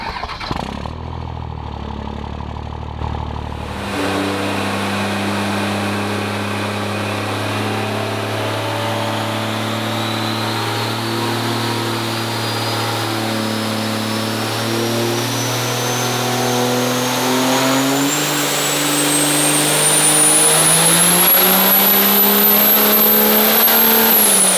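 A 2006 48RE truck with a swapped-in 6.7 engine and single turbo runs on a dyno, its loud steady roar climbing gradually in pitch over a long pull, with a rising turbo whine above.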